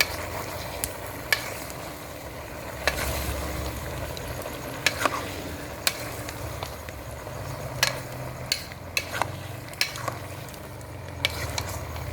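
A spoon stirs semi humba with taro and chili in a sizzling cooking pan, giving steady frying hiss with irregular scraping clicks against the pan, close and clear.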